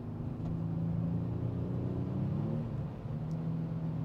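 A Kia Stinger GT engine runs at night with a steady, moderate rumble and a low drone. The level sits fairly even throughout, with a slight dip near the end and no voices.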